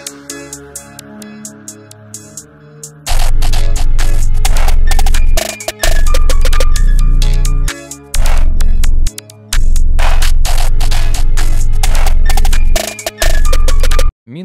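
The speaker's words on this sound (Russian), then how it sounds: "Вот как звучит битос." Evil plugg hip-hop beat at 130 BPM, opening with a sparse bell-like melody before heavy booming bass and crisp percussion crash in, looping loud and dense with brief drop-outs.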